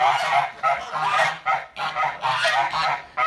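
Geese honk loudly and repeatedly in a steady, overlapping chorus of harsh nasal calls, close by with no other sounds.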